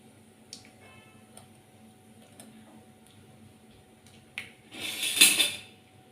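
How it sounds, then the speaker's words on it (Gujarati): Mustard and cumin seeds in hot oil for stuffed aubergines: faint scattered ticks and pops, then a louder burst of crackling near the end, close by. "રાઈ જીરું તતડે એટલે આપણે હિંગ નાખી દઈશું"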